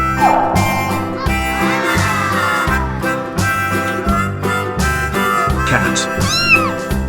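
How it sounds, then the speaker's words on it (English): A cat meows repeatedly in a series of loud, close, drawn-out cries with short gaps between them, set over a steady musical backing track. "Cat."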